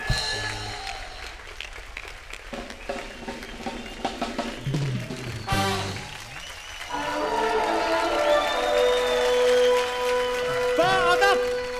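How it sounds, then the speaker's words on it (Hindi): Studio audience applause on a Hindi comedy show swells into sustained clapping, then gives way to music with bright tonal stings near the end; moderately loud and steady. "अल्ताफ जी के लिए, हमारी रवीना जी के लिए जोरदार तालियां हो जाएं"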